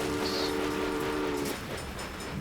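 A train in the railway-building game Railway Empire sounds a horn blast that fades out, over steady rumbling rail noise.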